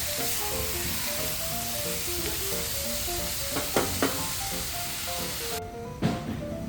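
Shrimp sautéed for hipon guisado sizzles steadily in a pan, a close, even frying hiss with a few scraping stirs midway and another near the end.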